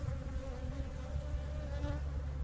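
Honeybees buzz densely around a swarm catch box heavy with fresh comb, a close, continuous droning hum with no talking.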